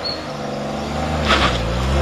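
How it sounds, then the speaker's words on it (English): A car engine revving up, a loud, close rising roar building over about two seconds with no talk over it. "Rev it, go on, rev it up."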